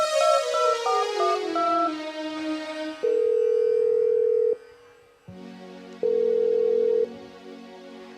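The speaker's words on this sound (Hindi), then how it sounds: "मैं अभी अपने बेटे को फोन करती हूँ" A telephone is dialed by a woman at a school annual function stage play, with a short run of rising and falling key tones followed by steady, loud dial-tone or ringback pulses, each lasting about a second and a half.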